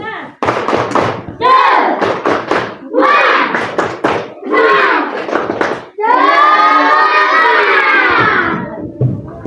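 A classroom of students performs the 'tepuk semangat' clapping chant, voices chanting together in bursts with thuds and hand claps mixed in, ending in one long sustained group shout.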